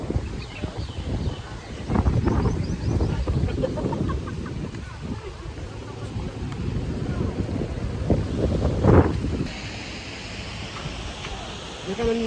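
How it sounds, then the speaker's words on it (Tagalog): Wind blows hard outdoors, buffeting the microphone in loud rumbling gusts that rise and fall throughout, with people talking over it at times. "Yan, mahangin sa labas."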